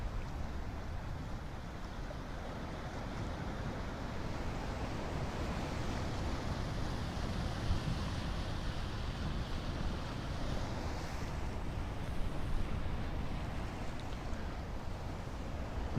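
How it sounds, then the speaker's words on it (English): Ocean waves wash in a steady, continuous surf roar with wind across the microphone, heard during a meditation session with no voices. "Just absorbing the sounds of the waves and resting into the vast sky that you are seeing."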